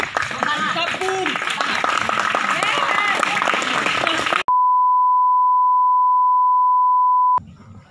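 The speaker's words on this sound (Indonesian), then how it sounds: "Bertepuk tangan yang meriah buatnya." An audience claps and cheers for a performer at a school stage play, the applause dense and lively with voices mixed in. It cuts off suddenly and a long, steady electronic beep follows.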